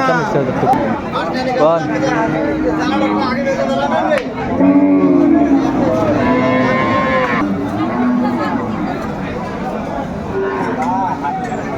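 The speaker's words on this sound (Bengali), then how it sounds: "শাহিওয়াল জাতের গাভি এবং বাসুর গরুগুলো বাছুর" Sahiwal cows and calves at the Aftabganj weekly cattle market in Dinajpur, lowing loudly and repeatedly over the close, constant chatter of a crowd of people.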